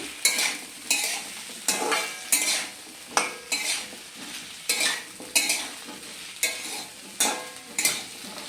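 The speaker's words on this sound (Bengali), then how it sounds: "আঁচটা আমি এখানে মিডিয়াম করে সবজিগুলো কষিয়ে নিচ্ছি" Vegetables for shukto sautéed in a pan on medium heat: rhythmic stirring strokes scrape and clatter about once a second over a continuous close sizzle.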